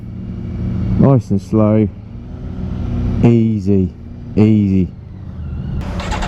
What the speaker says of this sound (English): So here we go, keeping the engine revving